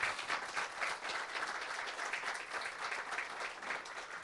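A church congregation claps together for several seconds, a dense, sustained wash of many hands at moderate distance with slight swells, and no voices stand out.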